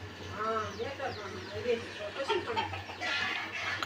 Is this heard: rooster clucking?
yes